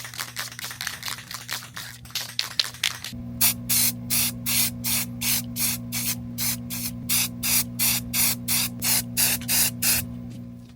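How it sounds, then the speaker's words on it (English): Spray paint hisses from a can onto a steel file in a workshop: rapid short bursts at first, then a long run of evenly spaced, loud, close sprays over a steady hum. "then hit it with some spray paint"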